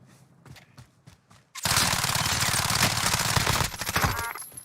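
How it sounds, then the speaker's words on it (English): Gunfire from a Fennec in a shooter video game: after several faint taps, a dense, loud, rapid burst of automatic shots lasts a few seconds, then tapers into scattered noise. "What the hell was he shooting at me with the Fennec?"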